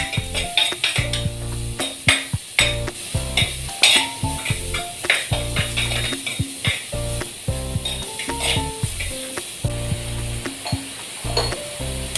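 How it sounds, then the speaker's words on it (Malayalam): Onions and tomatoes sauté in hot oil for a sardine curry, a steady close sizzle broken by repeated scraping and clinking of a metal spoon against the pan, with no talking. "മത്തിക്ക് ഉള്ളിയും തക്കാളിയെല്ലാം വഴറ്റിയിട്ടാണ് കറി വെക്കുന്നത്"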